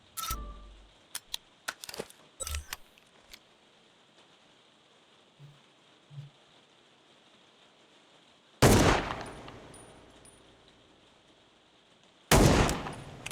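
Gunfire in the survival horror game Ground Zero: a few scattered sharp clicks and pops early, then two loud, abrupt shot bursts with ringing decay, separated by near-silence, with no speech.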